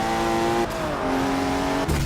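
BMW M2 engine in Forza 7 holds a steady loud drone with clear harmonic lines, then drops pitch mid-run as if shifting and climbs again, close and continuous, no voices over it.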